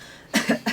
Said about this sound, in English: When you have cracks, you just cough.